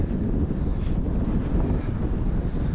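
Strong wind buffets the microphone high on Snowdon mountain along the Watkin Path, a loud continuous roar and rumble with steady gusting and no pause, no voice audible over it.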